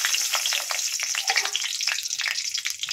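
Two dried red chillies and a bay leaf crackle and sizzle in hot mustard oil in a kadai, a steady close frying hiss with quick pops throughout, no voices.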